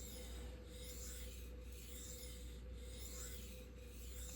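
A knife blade, M390 steel, grinds steadily across a 600 grit sharpening stone, producing a quiet, continuous rasping scrape with faint periodic strokes and no talking.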